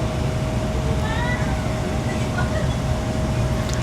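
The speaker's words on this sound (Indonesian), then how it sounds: "Sekejap lagi kereta api akan diberangkatkan menuju ke stasiun akhir Beaufort." Train about to depart for Beaufort station in Sabah sits with a steady low rumble and a sustained tonal hum, with faint squeals, and a voice talks over it.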